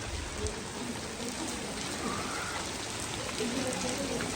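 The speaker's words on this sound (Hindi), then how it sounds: "अच्छी खासी जो बारिश है ना दोबारा शुरू हो गई है।" Heavy rain falling steadily in a constant dense hiss, with drops pattering on surfaces close by and a voice talking over it at times.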